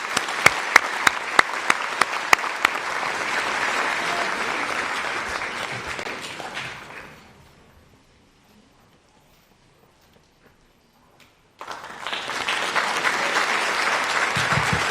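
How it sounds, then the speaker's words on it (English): An awards-ceremony audience applauds track athletes in a school hall: dense clapping with a few sharp claps for about seven seconds, fading into near silence, then another burst of applause starting near the end. "we're going to give them a round of applause anyway"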